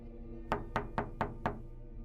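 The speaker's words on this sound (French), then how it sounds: "on frappe à la porte." Five evenly spaced, solid knocks on a door, close and distinct over a quiet background hum, with no voices.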